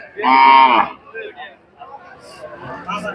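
A dairy cow gives one loud, close moo at the start at the Kaitla cattle market in Tangail, where cows are sold with calves, followed by quieter chatter and background voices.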